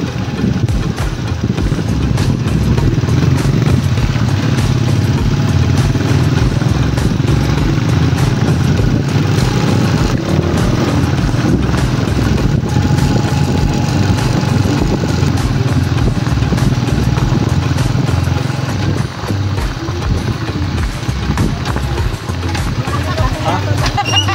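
A motorcycle engine drones steadily and loudly throughout on a rough, bumpy road, its low rumble continuous as it rides, with voices occasionally talking over it.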